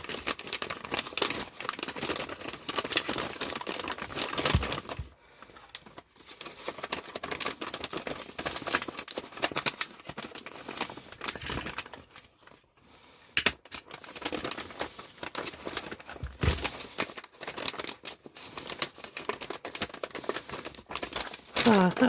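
Paper being folded and crumpled while a kids' birthday card is made, a dense close run of crinkling and rustling that nearly never stops, with a couple of short pauses.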